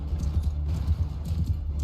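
Horse hooves clip-clopping in the Mount & Blade Bannerlord video game, a quick rhythmic run of thuds over low battle rumble, moderately close with no speech.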